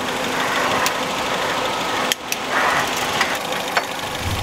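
A car engine idles with a steady low rumble, a few small clicks and knocks breaking through the constant hum.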